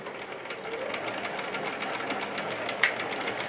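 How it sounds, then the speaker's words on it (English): Steady, continuous whir of a sewing machine stitching over a side seam on a quilt-as-you-go tote, back-tacking to lock the stitches; the motor drone runs evenly throughout with one brief sharper tick near the end, no talking. "I want to stitch over that again, just down there at the bottom to kind of lock those stitches in place."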